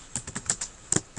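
Keys on a computer keyboard are tapped in a quick irregular run of light, close clicks, about eight strokes with brief pauses between them.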